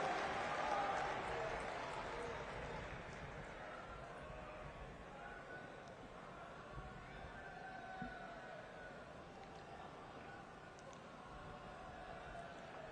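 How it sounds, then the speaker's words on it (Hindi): A large assembly at a national convention of primary teachers in Gandhinagar welcomes PM Modi with distant, diffuse applause, a soft hall-wide wash that fades slowly and stays faint throughout. "हम सब जोरदार तालियों के साथ सर को वेलकम करें"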